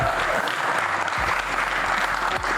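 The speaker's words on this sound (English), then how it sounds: "Give Wubik a big round of applause." Audience at an esports LAN championship gives player Wubik a round of applause, loud sustained clapping with a few louder thumps through it.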